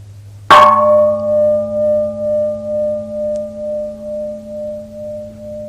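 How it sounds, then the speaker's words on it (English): A single deep gong strike rings out and sustains for several seconds, its tone slowly pulsing and fading alone in quiet. "simply listen to the gong"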